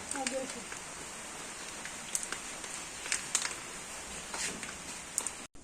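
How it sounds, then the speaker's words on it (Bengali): Rain falling outside on a cyclone day in a village, onto dry ground and leaves, makes a continuous close patter with scattered louder drops, and someone talks over it. "বাইরে বৃষ্টি হইতেছে"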